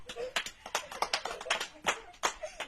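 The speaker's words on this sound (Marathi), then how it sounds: "टाळ्या." Children in a small school classroom clap in a quick, uneven patter of sharp hand slaps, fairly close and moderately loud.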